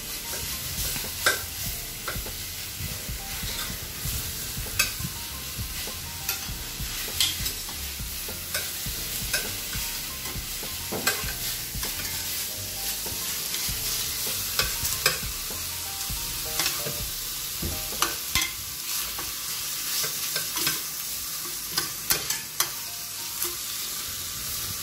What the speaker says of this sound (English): I'm trying to mix in my seasoning with the beef, so it's evenly mixed